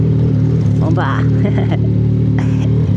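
A CFMoto 675 NK motorcycle engine idles with a loud steady low drone, blipped into short revving surges, with a voice briefly heard over it.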